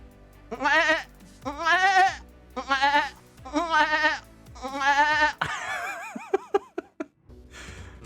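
A person imitates a goat, giving five loud, wavering bleats in a row followed by a strained, breaking cry, with no other sound around it.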